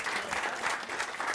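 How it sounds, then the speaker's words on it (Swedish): Audience clapping at a live talk show, dense and steady, filling the room at moderate volume. "Stor applåd här för det"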